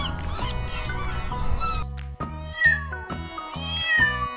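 A cat meows several times in a row, each call close, clear and rising then falling in pitch, with short pauses between them and no talk over it.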